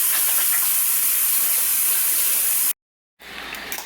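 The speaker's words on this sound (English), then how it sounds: "I'm gonna wash my hands real quick." Water runs steadily from a kitchen tap while hands are washed, a strong close hiss that cuts out abruptly, then resumes a moment later slightly softer.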